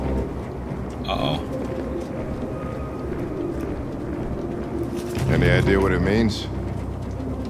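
Pigeons coo in a crib inside the Detroit: Become Human video game, with a clear burst of cooing mid-clip that rises briefly above a steady ambient bed while a voice speaks over it.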